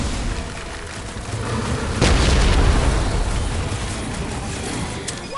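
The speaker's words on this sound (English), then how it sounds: "Watch those bombs!" Bombs explode in the Guardians of the Galaxy video game: a sudden loud blast lands about two seconds in and its rumble trails off over a dense, continuous noisy game backdrop.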